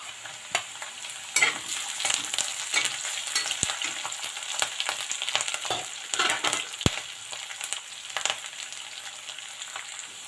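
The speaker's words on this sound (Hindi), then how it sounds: "और इसी के साथ मैं हरी मिर्च और अदरक को भी इसमें ऐड कर दूँगी।" Garlic, green chili and ginger fry in a pan with a steady hiss and sizzle, broken by scraping stirs and a few sharp clicks of a spoon against the metal, close up with no talking.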